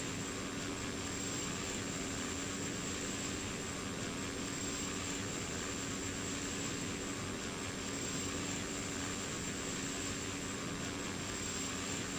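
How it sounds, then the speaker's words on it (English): A Cessna Caravan (Thanda Super Cargomaster) turboprop in a flight simulator game drones steadily, loud and unbroken throughout with no talking. "We are in the Cessna Caravan."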